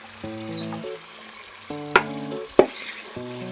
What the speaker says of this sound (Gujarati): હવે આપણે નાખશું બટેટા